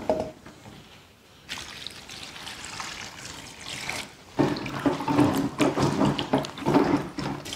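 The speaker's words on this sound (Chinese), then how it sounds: "反复清洗几次过后再冲洗一下" Cherry radishes being rinsed under running water, with a steady trickling, splashing flow that turns louder and fuller partway through, close by and without speech.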